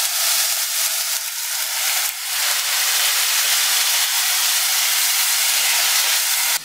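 Ground tomato, ginger and green chilli paste hits hot oil with browned cumin for a no-onion, no-garlic rajma, giving a loud, steady, close-up sizzle and hiss that holds throughout with no talking.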